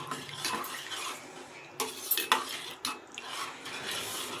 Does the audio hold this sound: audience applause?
no